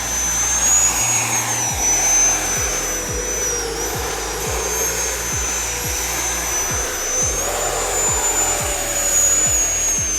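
A Freewing Ares 90mm electric ducted-fan RC jet spools up with a loud, steady high-pitched whine and rushing air, holding near and strong throughout with no talking.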